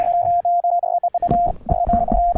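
A steady Morse code tone sent over the internet, broken into on-off pulses, joined later by crackly, garbled noise bursts that smear the signal.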